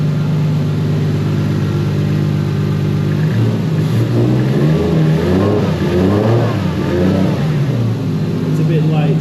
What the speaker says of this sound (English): The exhaust is back on, car is running again.